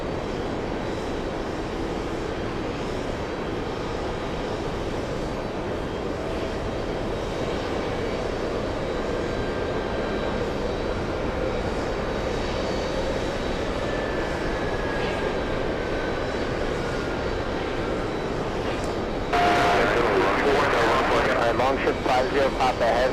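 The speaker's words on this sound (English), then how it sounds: "It looks like it's an Airbus A220 flying in from the Bahamas" An Airbus A220 jet flies in from the Bahamas to JFK, a steady broadband engine roar holding for the whole stretch with a faint rising whine, then growing louder and brighter near the end.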